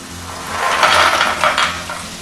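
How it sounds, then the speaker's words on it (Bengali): Fried potatoes and lentil dumplings tipped into spices in a pan and stirred, a short burst of scraping and clatter rising and falling over about two seconds, close and fairly loud. "এবার আমি এর মধ্যে দিয়ে দেবো ভেজে রাখা আলু ও বড়িগুলো"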